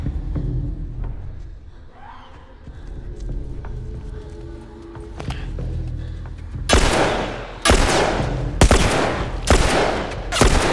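Gunfire in the video game The Last of Us, a series of loud, sharp shots in rapid bursts after a quieter stretch of ambient game noise and footsteps, close and punchy.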